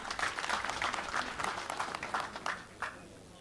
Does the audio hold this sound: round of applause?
yes